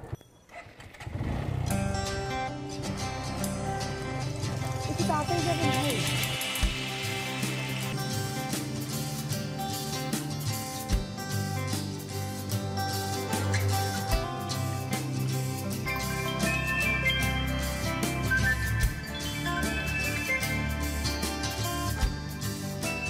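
Motorcycle engine running steadily during a ride, a continuous mid-loud drone with occasional thumps and bumps, accompanied by a brief spoken line and background music.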